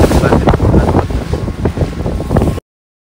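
Strong outdoor wind roars loudly and unevenly across the microphone in thick gusts for a few seconds before cutting off abruptly.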